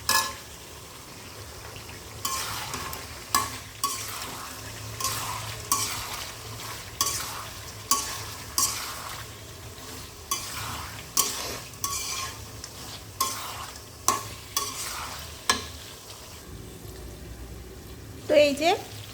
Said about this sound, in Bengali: নিয়ে মশলার সাথে মাংসগুলো দিয়ে কষিয়ে নেব